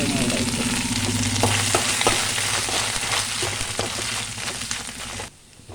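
Grated coconut tipped into garlic already frying in a pan, steady close sizzle with light stirring clatter and scraping throughout, cutting off near the end.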